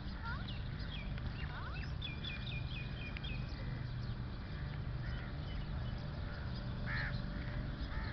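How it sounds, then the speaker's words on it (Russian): Outdoors in Dubai, a small bird calls with a series of quick chirps over a steady wash of background noise, moderately distant and fairly faint. "Смотри, какая птичка вообще прикольная."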